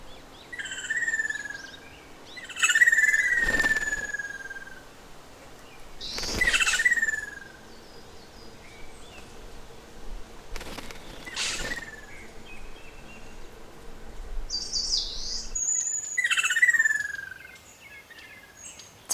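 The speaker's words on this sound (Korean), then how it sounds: "경계를 서고 있던 호반새가 경고음으로 둥지 안에 짝을 불러내서 함께 청설모 습격에 맞섭니다." Ruddy kingfisher giving repeated sharp warning calls at its nest while fending off a squirrel raid in spring woodland, several loud descending call bursts spaced a few seconds apart over faint insect and bird background.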